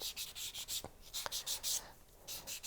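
Quiet close-up sanding of the edges of a layered pendant, rapid rhythmic back-and-forth scratchy rubbing strokes with a couple of small taps between them.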